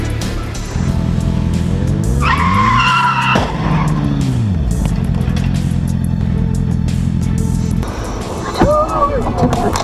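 Car crash on a road with tires skidding loudly, a rising and falling squeal of rubber, a sudden impact around the middle, then engine rumble continuing and a second brief squeal near the end; a narrating voice speaks over it.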